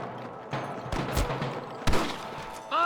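Sniper gunfire in Red Dead Redemption, heard as a few sharp cracks at moderate volume over a faint background, with a brief voice at the end.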